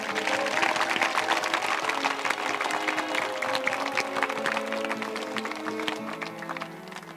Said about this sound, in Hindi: अब ताली बजानी बनती है।